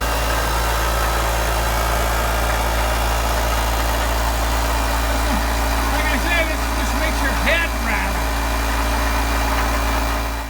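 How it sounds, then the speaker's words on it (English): A small portable construction air compressor at a cabin building site near Mount Baker runs with a loud, steady, unbroken drone throughout, with faint chirps over it. "And one of those things is my little portable air compressor."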